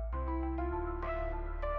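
A phone notification sound plays as a short bright chime melody of several quick tonal notes over a low steady hum, with no voices.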